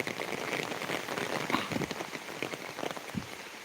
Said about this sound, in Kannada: ಜೋರು ಮಳೆ ಮಾರಿ